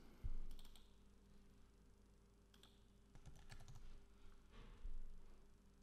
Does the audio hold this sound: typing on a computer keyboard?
yes